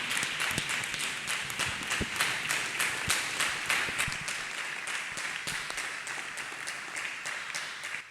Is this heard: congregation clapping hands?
yes